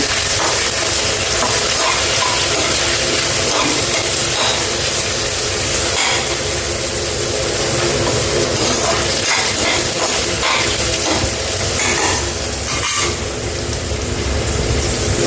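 Onions sautéing in a pan for coriander biryani hiss and sizzle loudly and without a break, a close, dense frying sound with faint scraping now and then.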